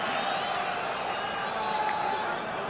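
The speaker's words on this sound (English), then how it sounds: "The crowd are enjoying this here." Stadium crowd noise from a 1995 Rugby World Cup pool match between Scotland and Tonga, a steady, broad roar of cheering spectators sustained throughout, with commentary running over it.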